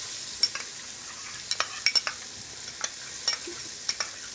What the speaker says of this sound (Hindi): मक्खन को इसमें अच्छी तरह से मिक्स कर लें।